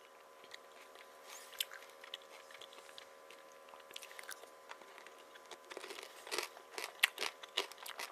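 Cooked kkaedasi crab is eaten, with soft, close crunches and crackles of shell and chewing that come in irregular bursts, growing more frequent toward the end.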